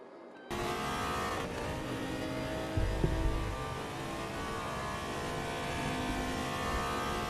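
GT3 race cars, including a Corvette, roar around Monza in a sim racing game, a steady loud engine drone with a brief surge and thump partway through.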